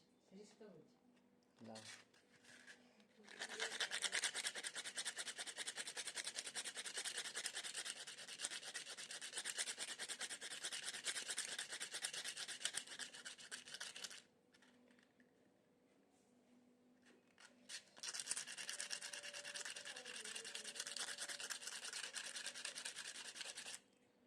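Seeds are rubbed by hand against a rough surface, a close, steady rasping scrape in two long bursts separated by a quieter pause, with a voice speaking briefly at the start.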